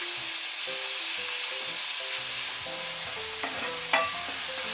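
Hand-crushed tomatoes stir-fry over high heat in a pan for spicy garlic shrimp spaghetti sauce, a soft steady sizzle with a few utensil clinks and scrapes, quiet and close with no talk.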